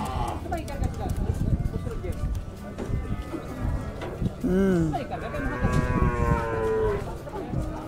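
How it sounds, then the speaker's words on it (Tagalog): A white cow bought at a Philippine livestock market gives one loud, close, drawn-out moo midway, with people talking over busy market noise throughout. "Ito yung puti na baka na nabili natin"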